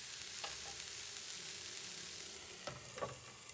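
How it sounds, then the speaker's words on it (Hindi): Mushrooms and peas fry in a pan with a steady, quiet sizzle, while a spoon stirs them with a few scraping clatters, one early and two close together near the end. "मशरूम डालेंगे, मशरूम को थोड़ा सा पकने तक इसको चलाना है"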